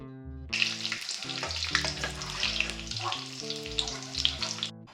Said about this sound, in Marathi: तुपामध्ये डिंक फुलवून घ्यायचा